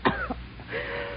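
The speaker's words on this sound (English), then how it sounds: "You got a bad cough." A single rough cough, followed by a brief rasp and then a low murmur of room tone.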